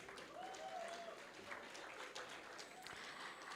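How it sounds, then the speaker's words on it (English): Audience at a college meet applauds the music club, a steady wash of clapping from a crowd heard at a distance, fairly soft throughout. "Let's give a big round of applause to the music club again."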